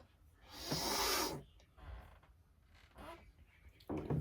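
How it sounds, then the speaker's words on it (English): Someone clears their throat with a loud, raspy, breathy burst, followed by a couple of shorter, softer rasps close to the microphone. "I need to clear my throat actually."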